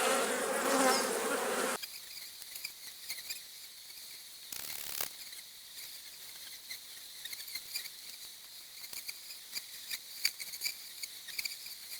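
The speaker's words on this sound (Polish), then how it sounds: "Pszczoły już zaczynają być niespokojne." Restless honeybees buzzing around an opened beehive during an autumn hive inspection, a close, steady hum with individual bees darting past, plus a brief louder burst of handling noise near the start.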